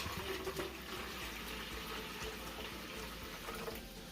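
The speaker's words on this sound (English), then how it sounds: "we'll add our carbonated water first." Carbonated water poured into a glass for a homemade herb soda, a soft continuous splashing and fizzing stream, faint and steady with no talk.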